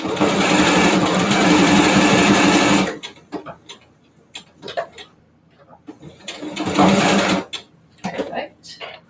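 A sewing machine runs steadily for about three seconds while stitching across the top of a T-shirt being made into a bodysuit, then again in a shorter run later, with someone talking over the quieter stretches.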